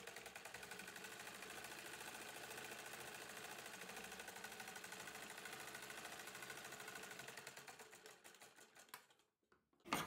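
A sewing machine runs steadily, stitching lace onto a blouse with a rapid even clatter. It slows near the end, stops, then gives a final short burst.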